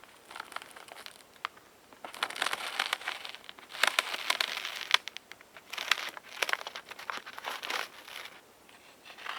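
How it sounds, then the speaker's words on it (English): A 12-foot roll of tar paper handled on a cabin roof during shingling, giving close, irregular crinkling and crackling rustles in bursts, loudest around the middle, with no talking. "Okay, I have my 12-foot piece of tar paper."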